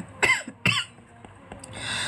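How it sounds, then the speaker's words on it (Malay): Dry coughing from a woman teaching a live accounting lesson, a few sharp separate coughs close to the mic with short gaps between them, then quieter breathing and faint room sound. "Batuk-batuk kering ni."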